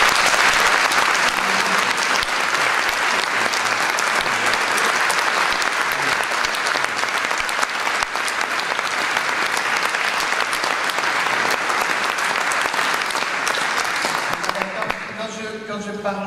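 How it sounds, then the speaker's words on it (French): Sustained applause from a concert hall audience at a Brussels classical music festival, loud and steady for about fifteen seconds before thinning out at the end. "je voudrais que vous les applaudissiez."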